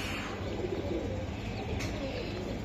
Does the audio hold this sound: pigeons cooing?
yes